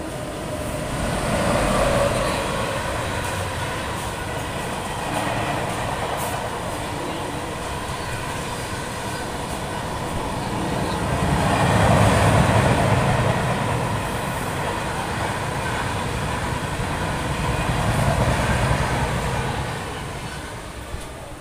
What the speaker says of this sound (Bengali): আমার ট্রেন এই মুহূর্তে এসে পৌঁছেছে খানা জংশন স্টেশনে।